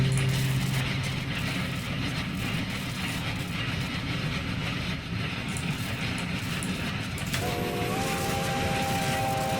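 Train rumbling steadily in the video game Winter Ember, a continuous low mechanical roll with clattering, faint and even, and a tonal horn-like hum entering near the end.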